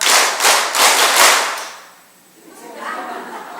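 A live audience at a Catholic talk claps in unison, about four or five sharp, loud group claps in quick rhythm, followed by quieter murmuring.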